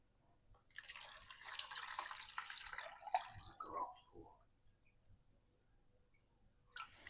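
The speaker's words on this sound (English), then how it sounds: "So I will just fill out the water." Water pours steadily into a container filled with washed rocks, a hissing, splashing stream lasting a few seconds before tapering into faint drips and quiet.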